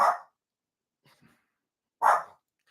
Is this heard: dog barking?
yes